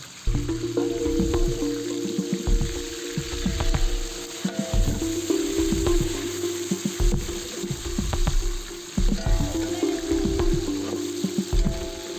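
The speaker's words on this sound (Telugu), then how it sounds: "ఆనియన్ కొంచెం ఫ్రై కావాలి" Onions and curry leaves frying in oil for a large batch of bagara rice, a continuous loud sizzle broken by repeated rhythmic scraping and stirring strokes, close up with no voices.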